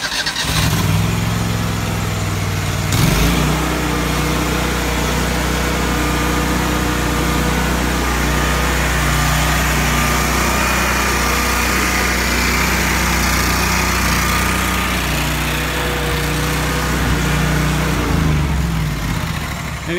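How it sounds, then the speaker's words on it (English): A riding lawn mower engine runs loud and close for the whole stretch, a steady buzzing drone that dips briefly near the start and again near the end as the engine note shifts. "Overall, the mower goes like that"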